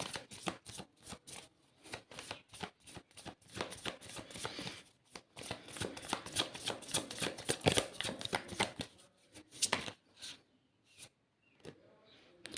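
Tarot cards shuffled by hand in quick riffling bursts, close and crisp, with a brief pause partway through before more shuffling that thins out into a few soft taps.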